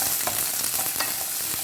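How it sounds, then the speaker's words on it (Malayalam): Onion and carrot are sautéed briefly in a pan for soya chunks 65, giving a close, steady frying sizzle with faint stirring taps throughout the short stretch and no voices. "സവോള ഇട്ട് കൊടുക്കാം. ക്യാരറ്റ് ഇട്ട് കൊടുക്കാം."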